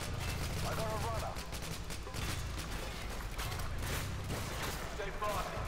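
Gunfire in Call of Duty: Modern Warfare 2 comes as dense bursts of shots and rattling weapon noise that keep going through the clip. It is loud and close, with shouted game voices mixed in.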